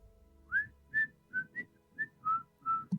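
A person whistles the tune from Kill Bill alone, seven or eight clear notes in a halting rhythm, close and fairly soft.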